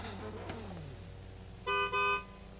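A car horn sounds in two loud, steady blasts just under half a second each, separated by a brief gap, at a drift qualifying run in an older Nissan Skyline, over a low engine idle and faint background noise.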